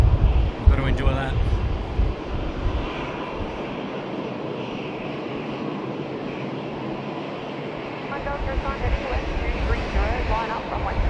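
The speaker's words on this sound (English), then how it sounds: "Cathay Pacific, thank you for bringing in your 748" A Cathay Pacific Boeing 747-8 at Sydney Airport makes a continuous engine rumble and roar, with voices talking over it and a brief clatter near the start.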